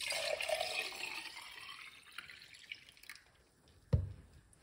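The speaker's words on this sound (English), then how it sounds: "let's pour it out" Carrot, ginger and lemon juice being poured, a trickling liquid stream that fades over a few seconds, followed by a single soft knock near the end.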